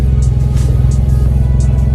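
A first-generation two-door Suzuki Swift Mk1 Sport's engine running on a test drive, with a steady low droning hum close up and the air conditioning on.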